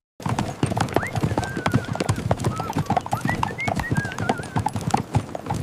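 Steady clip-clop of horse hooves in a quick rhythm, with a horse whinnying now and then and some talk underneath.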